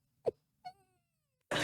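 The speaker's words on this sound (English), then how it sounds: "I need to upload the cat fight sound to my soundboard." A cat fight sound effect played from a soundboard: two short, sharp feline yowls close together, then a burst of broadband noise at the end.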